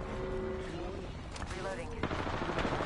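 Automatic and single gunshots ring out in a tense Apex Legends firefight, layered over team callouts and in-game voices, with a sharp burst of fire standing out near the end.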